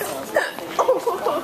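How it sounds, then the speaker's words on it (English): A woman hiccups a few times in quick succession inside a Walmart store, short voiced jolts mixed with light breathy sounds and a chuckle, close and clear. "Hiccup again."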